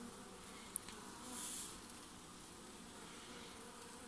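Soft, steady buzzing of honey bees on a comb close by, a constant low drone with no talking.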